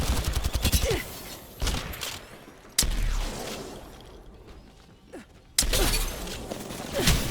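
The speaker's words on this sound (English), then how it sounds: "The enemies are shooting at me." Video game gunfire from enemies, with repeated bursts and single sharp shots, some loud and close, others thinner and farther, across several seconds of combat.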